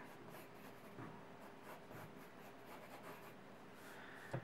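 Pencil sketching a figure's thighs on paper, a soft continuous scratching and rubbing of graphite with short strokes, faint and close, alone with no talk.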